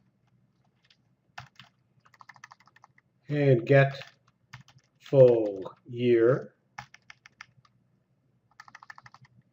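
Quick bursts of typing on a computer keyboard, clicky keystrokes in short runs between stretches of someone speaking during a JavaScript coding session.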